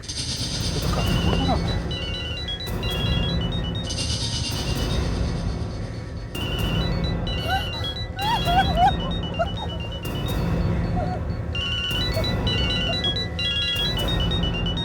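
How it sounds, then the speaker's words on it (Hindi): A mobile phone rings from inside a bag, its repeating electronic ringtone melody cycling several times under a heavy, constant rumbling background, fairly loud throughout. "किसी बैग में से मोबाइल की आवाज आ रही है सर।"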